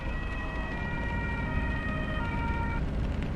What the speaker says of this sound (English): that's the sound of police cars instead of emergency vehicles.